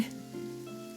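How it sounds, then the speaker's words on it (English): Rain in Genshin Impact hisses softly and evenly for about a second, faint beneath a low sustained musical drone. "It's raining."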